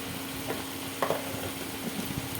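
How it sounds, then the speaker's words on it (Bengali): Ground spices fry in a pan: turmeric, chili powder, Kashmiri red chili, coriander and cumin powder. A continuous soft hiss runs throughout, broken by a few light stirring scrapes. "দিয়ে খুব ভালো করে মশলাটাকে আমার কষিয়ে নিতে হবে"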